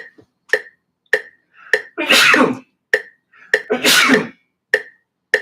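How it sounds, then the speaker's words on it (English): Two loud, close sneezes burst out amid a series of short sharp clicking beats, each sneeze a forceful breathy blast. "I gotta sneeze."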